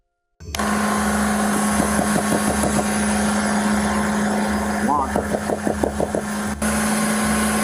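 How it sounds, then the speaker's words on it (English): A parked car's engine runs at idle with a steady low hum and rhythmic pulsing throughout, with faint scattered rattles and distant voices in the background. "they found the driver asleep in his vehicle with the engine running and his foot on the gas pedal"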